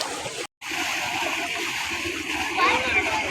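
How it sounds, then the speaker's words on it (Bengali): Water gushes from a deep tube-well pump outlet where people bathe, a loud, steady rushing and splashing that runs throughout, broken by a brief silent gap near the start. "এসেন পানি কি স্রোত"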